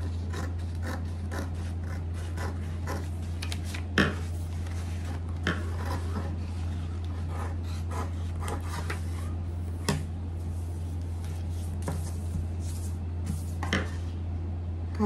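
Scissors cutting katori blouse fabric, a series of crisp snips at irregular intervals, fairly close, over a constant low electrical hum.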